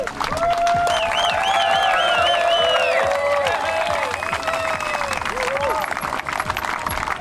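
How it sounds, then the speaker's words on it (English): A large crowd cheers, whoops and applauds as the last cycling participants come in, a dense steady roar of clapping and shouting with rising and falling calls throughout, loud and continuous. "Everyone comes out and we all cheer on the people that maybe deserve it most."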